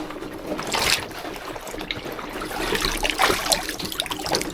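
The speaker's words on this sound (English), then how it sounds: "What I'm doing to get as much water out of the legs as possible is just gently lifting it up" Water trickles and splashes steadily as it drains out of a drysuit lifted up by the feet after rinsing, a continuous close-up dribble with small irregular splashes.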